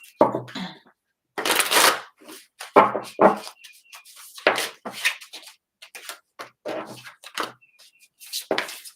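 Tarot cards are shuffled in repeated bursts of riffling and tapping, close and crisp, with short pauses between handfuls and no talking.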